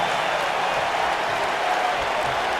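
Steady, dense crowd noise from a WWE 2K wrestling arena during a Daniel Bryan match, a continuous broadband roar of cheering and applause at moderate level with no clear breaks.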